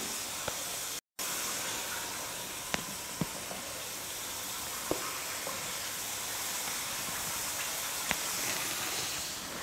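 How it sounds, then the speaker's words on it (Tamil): Gram flour snacks fry in hot oil with a steady, soft sizzle and hiss, broken by a few faint clicks and pops, with no talking. "ரெடி பண்ணி வச்சுருக்கிறத எடுத்து எண்ணெயில் போட்டு பொரிச்சு எடுத்துக்கலாம்."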